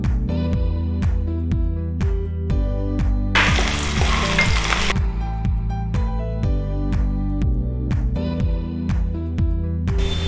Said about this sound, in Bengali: এরপরে আমি এর মধ্যে রসুনটা দিয়ে দেব।